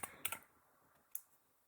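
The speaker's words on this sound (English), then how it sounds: "hit Windows and R on our keyboard" A few quick keystrokes on a computer keyboard, with a cluster of clicks near the start and a single sharp tap later, close and fairly quiet with no talking.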